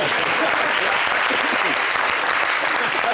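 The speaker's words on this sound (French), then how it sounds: "applaudissez pour moi, c'est ça, Manadia" Studio audience at a French-language talk show bursting into dense, steady applause, loud and close, filling the moment with continuous clapping and crowd noise.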